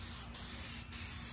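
A spray paint can hisses steadily through a short moment, a continuous airy spray close by with two faint pauses, while matching paint on an Infiniti G37 car.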